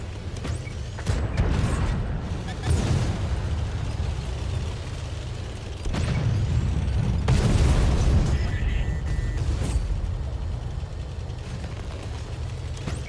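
Tank cannon fire and shell impacts in World of Tanks console, with heavy booming bursts at intervals over a constant low engine rumble, loud and close.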